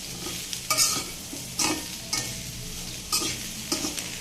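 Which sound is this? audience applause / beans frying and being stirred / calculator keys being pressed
beans frying and being stirred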